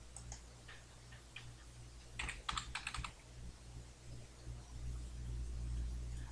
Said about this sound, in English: Click into the primary sponsoring field and start typing the organization's name.